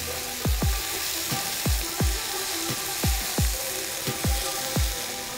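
Tarragon and spices being stirred into a hot frying pan, with a steady sizzle throughout and a series of sharp scraping knocks from the utensil against the pan, roughly ten of them in an uneven rhythm, close and clear.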